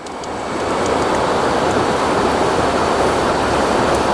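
Water draining out of the water system of a mini camper van set up for car camping, a steady loud rushing gush that builds in the first half second and then holds constant, with no talking.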